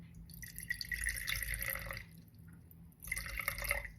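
Water trickles and splashes into a clean mason jar sitting on a digital scale, two short pouring bursts separated by a brief pause, close and fairly quiet.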